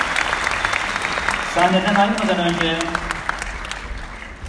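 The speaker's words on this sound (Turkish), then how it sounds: "Onlara kocaman bir alkış daha diliyorum" An audience at a folk song night in Şanlıurfa applauds the public education centre teams on stage, a sustained wash of clapping carried under an announcer speaking into a microphone.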